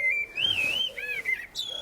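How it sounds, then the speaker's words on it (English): A blackbird sings in a UK garden on a warm day, clear fluting whistled phrases close by, rising and falling over a quiet background. "Blackbird."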